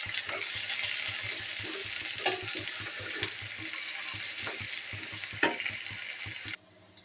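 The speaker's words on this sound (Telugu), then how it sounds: "కంద ముక్కలను కూడా వేయించుకొని నూనెలో కాసేపు అలా వేగనివ్వాలి" Elephant foot yam pieces frying in oil, a dense, steady sizzle up close with occasional scrapes and clinks of a spoon, cutting off abruptly near the end.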